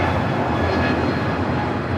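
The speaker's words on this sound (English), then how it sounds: "This is JetBlue Flight 288 taking off to Boston on the A321neo" A JetBlue Airbus A321neo taking off from LAX, a continuous broad jet engine roar with a faint tonal whine, steady and fairly loud over the full stretch, no voices.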